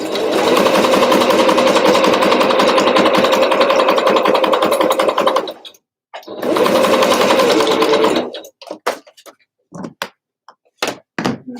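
A sewing machine stitches through a handmade paperback journal, running in a loud, steady, close mechanical whir for several seconds, pausing briefly, running again, then giving way to a few separate thunks and knocks.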